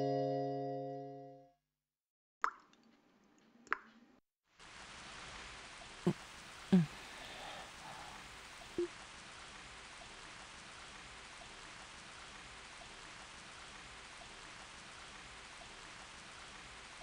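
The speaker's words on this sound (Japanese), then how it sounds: "今日は雨か。" Steady rain falling in the video game Trails from Zero/Azure, a soft continuous hiss that begins after a brief chime and a pause, with a few small taps over it.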